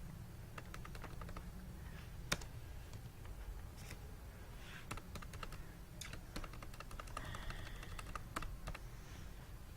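Soft, irregular clicks of typing on a computer keyboard while entering text into a text box in InPage software, steady and quiet throughout with no speech.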